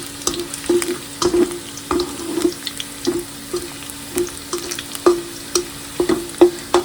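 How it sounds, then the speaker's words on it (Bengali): Onions fry in a pan while a chicken dish is being cooked, with a continuous sizzle broken by regular scraping stirs and small clinks of a utensil against the pan. "পেঁয়াজটা ভাজা হয়ে গেছে"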